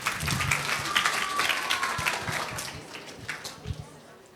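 An audience claps through a growth mindset and resilience talk: dense, steady applause that holds at an even level, then thins and tapers toward the end, with scattered individual claps.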